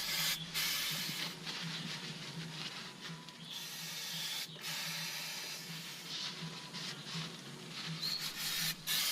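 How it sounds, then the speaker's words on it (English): Brake cleaner hisses in repeated spray bursts onto a Mazda 323F rotor dust cover and bolts, a steady close aerosol hiss broken by brief pauses. "Clean also the rotor's dust cover and the bolts with the brake cleaner"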